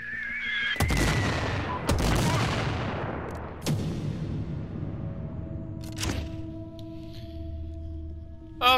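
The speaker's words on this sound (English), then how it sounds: "Start firing the mortars! Mortars incoming! Firing mortars!" Mortar fire in Sniper Ghost Warrior 3, a series of heavy booming blasts with long rumbling tails, a few loud impacts spaced seconds apart over a continuous low battle drone.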